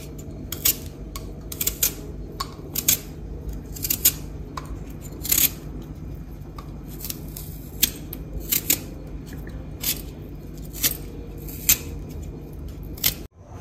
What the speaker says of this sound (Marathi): आंबाड्याची आता आपण सालं काढून घेऊयात।